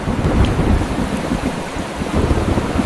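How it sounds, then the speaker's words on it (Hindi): A heavy downpour hisses steadily and loudly, with low rumbles of thunder rolling underneath, a continuous storm effect with no voices. "देखते ही देखते थोड़ी देर में बारिश की बूंदें गिरना शुरू हो गई और धीरे धीरे वो मूसलाधार बारिश में बदल गई"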